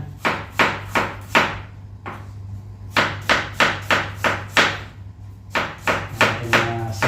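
Onions being chopped with a knife on a board for Ilocano pinapaitan: crisp, evenly spaced cuts fall in quick runs of several strokes with short pauses between, close and clear over a steady low hum.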